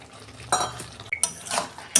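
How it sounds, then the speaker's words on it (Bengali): Chopped tomato tipped into a pan of Bihari-style chicken, giving a few scraping stirs and utensil clinks against the pan with a faint sizzle, close and moderately loud, in bursts over about two seconds. "এই যে আমি একটা টমেটো কেটে রেখেছিলাম দিয়ে দিচ্ছি"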